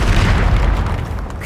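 A Confringo spell explodes in Hogwarts Legacy with a heavy, close boom, a deep rumbling roar that fills the whole moment and fades only slightly.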